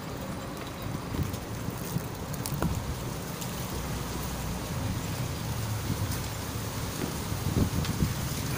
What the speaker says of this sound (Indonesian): Anginnya besar,